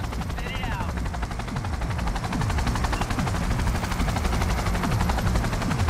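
An armed helicopter in Cyberpunk 2077 waits to land, heard as a steady loud rotor throb that fills the whole stretch, with rapid chopping pulses and a voice talking over it.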